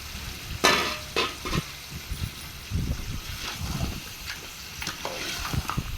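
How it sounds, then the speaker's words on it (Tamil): Mutton gravy being stirred in a pan, with a spoon scraping and clinking against the metal in irregular bursts over a low sizzle, close and moderately loud. "இப்போ வந்து ஓப்பன் பண்ணி ஒரு வாட்டி வந்து நல்லா மிக்ஸ் பண்ணிக்கிறேன்"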